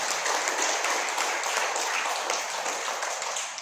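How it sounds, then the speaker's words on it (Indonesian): Audience applause at a health seminar, a steady wash of many hands clapping in a room that holds at a fairly even level for the whole stretch. "Boleh tepuk tangan."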